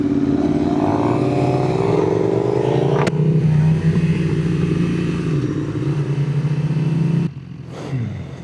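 A new motorcycle, still in break-in, pulls hard in second gear on the interstate, its engine note climbing steadily under wind roar, then a sharp shift and continued drone before the sound drops away near the end.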